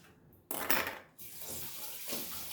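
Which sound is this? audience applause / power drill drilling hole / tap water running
tap water running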